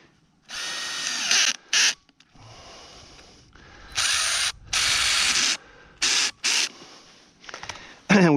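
Ratcheting bursts tighten a no-hub coupling clamp on drain pipe for a backyard drainage basin, coming as several separate, fairly close clicking runs of varying length with short gaps between them.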